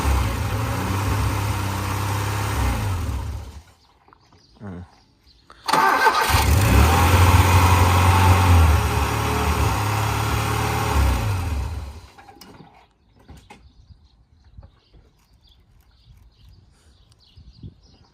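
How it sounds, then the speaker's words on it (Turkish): An old Russian car engine cranks and runs roughly for several seconds, cuts out, then turns over and idles again before dying into near silence. "Araba çalışıyor kapanıyor çalışıyor kapanıyor"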